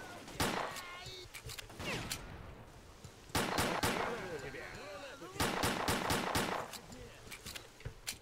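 Gunfire from S.T.A.L.K.E.R.: Clear Sky in bursts of sharp, loud shots, clustered rapid volleys separated by short lulls, with speech faintly mixed in.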